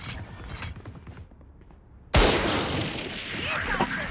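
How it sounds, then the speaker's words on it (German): A single sharp, loud rifle crack from the Marshal sniper rifle in the tactical shooter Valorant, ringing out abruptly after quieter game noise and followed by a lingering tail, with a voice faintly audible. "Er drückt mir den Headshot mit der Marschle"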